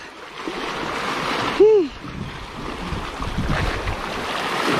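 Steady broadband wash of sea surf with wind noise throughout, plus a brief whistling tone in the middle.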